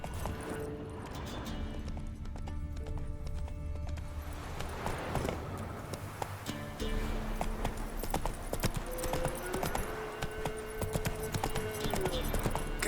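A horse galloping, a steady rapid clip-clop of hooves running continuously at close range over a constant background, with no talk.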